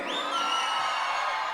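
Crowd at a live song performance hooting, whooping and cheering together, a dense sustained roar of many voices with rising high whoops, loud and close throughout.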